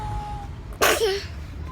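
A baby gives a single short, sharp sneeze, close and fairly loud, over quiet room background.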